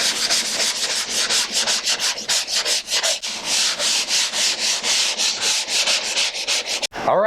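Drywall tape edges and joint compound ridges being hand sanded, a continuous raspy scrubbing in rapid back-and-forth strokes, close and steady for several seconds.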